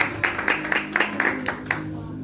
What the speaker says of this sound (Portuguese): E as palmas louvem ao Senhor, amém?